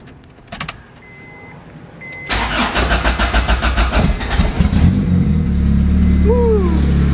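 A Honda Accord starts up nearby: a few faint clicks, then a sudden crank that catches into a loud, rough idle that steadies, with a brief voiced exclamation near the end.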